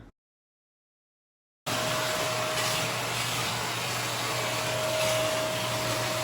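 After a moment of silence, a household vacuum cleaner starts up and runs with a steady, loud whine and airy roar while cleaning stairs, continuous and close.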